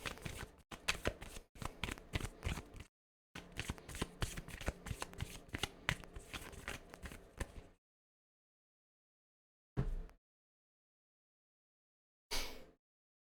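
Tarot cards are shuffled by hand in two long bursts of riffling and slapping, close and fairly quiet, followed by silence and two short, sharp card snaps.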